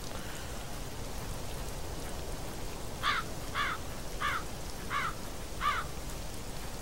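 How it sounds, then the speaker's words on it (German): Steady pouring rain hisses throughout an outdoor scene in the video game Black Mirror 2, with a crow cawing five times in a regular series midway. "Müssen wir wirklich raus in den strömenden Regen"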